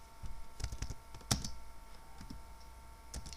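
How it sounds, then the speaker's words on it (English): Quick, uneven keystrokes on a computer keyboard while typing Java code, close and clear with one sharper key press near the middle; no voices. "so I would just type ls dot set,"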